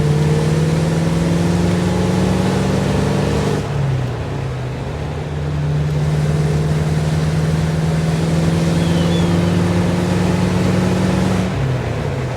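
A 1953 Allard K3 drives a curvy road, heard from inside the car. The engine drones loud and steady, with the pitch dropping at two gear changes and the revs climbing again between them.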